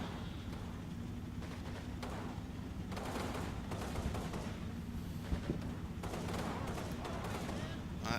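Gunfire in a Combat Mission World War II game crackles in repeated bursts and volleys against a constant low battlefield rumble, moderately loud, with a voice speaking over it at times.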